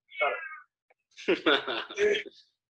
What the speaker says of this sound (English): Did y'all hear my cat?